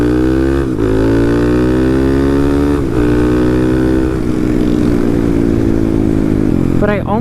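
A custom 250cc Honda Monkey motorcycle races loudly and up close, its engine pitch climbing steadily and dropping at each gear shift. A brief higher rev comes at the very end.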